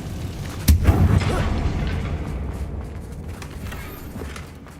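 A Confringo blasting spell goes off in Hogwarts Legacy as one sharp, booming burst that rumbles and then fades, followed by softer game ambience.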